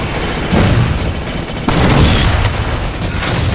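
Rocket explosions in Halo 4 multiplayer, a loud dense run of booming blasts and gunfire rolling together in two heavy waves.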